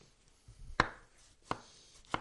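Three separate knife chops hit a cutting board close by, evenly spaced with pauses between, as tomatoes are cut into very small pieces for kısır.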